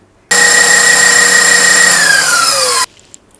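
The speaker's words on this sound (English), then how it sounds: "I shall take my cream cheese, my butter, and my 1/2 cup of powdered sugar and mix it in my KitchenAid." A KitchenAid stand mixer beats cream cheese, butter and powdered sugar in a loud, steady motor whir. It runs for about two and a half seconds, with the pitch dropping slightly near the end before it stops.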